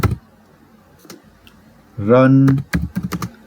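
Typing a command on a computer keyboard: a few scattered key clicks, then a voice speaks briefly, followed by a quick burst of rapid keystrokes close by.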